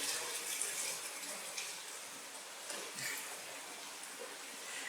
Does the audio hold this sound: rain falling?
yes